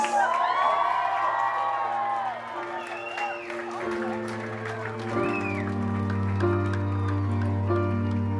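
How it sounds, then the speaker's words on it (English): Crowd of family and friends at a Peruvian quinceañera party cheers, whoops and applauds for the birthday girl's entrance, mixed with sustained music and amplified voices. "give a big round of applause"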